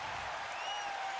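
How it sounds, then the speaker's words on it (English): A basketball arena crowd during a 1996 NBA game between the Suns and Bulls roars and applauds after a blocked shot, a dense, sustained wash of noise from a large audience. "the crowd reacting to the block of Harper"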